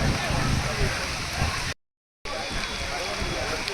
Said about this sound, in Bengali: প্রচণ্ড জোরে বৃষ্টি শুরু হয়ে গেছে।